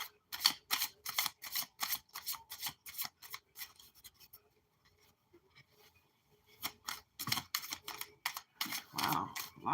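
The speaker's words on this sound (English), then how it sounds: "Wow, lots of cards are trying to come out at once." Tarot cards are shuffled by hand in a quick run of crisp riffling slaps, a pause of faint rustling, then another burst of close, brisk card shuffling.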